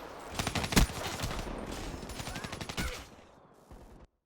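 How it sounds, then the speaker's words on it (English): A sentry gun fires in a capture-the-flag shooter video game, letting out rapid bursts of automatic gunfire that rattle loudly for about three seconds before cutting off, with no talk. "sentry gun's starting to attack"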